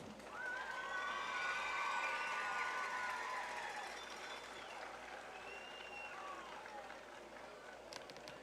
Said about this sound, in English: Would you please join me in giving Queen Layla and her court a round of applause?